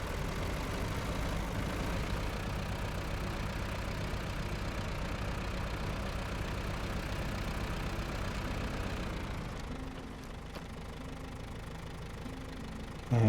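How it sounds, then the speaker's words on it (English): A Paystar truck's heavy diesel engine in SnowRunner, in cold conditions, knocking and chugging steadily for about ten seconds, then settling to a quieter idle with a loud burst at the very end. "Takes ages for the Paystar's engine to start."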